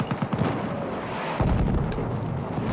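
A loud battlefield blast from Battlefield 1 booms up close, followed by a sustained heavy rumble of artillery and gunfire that keeps going to the end.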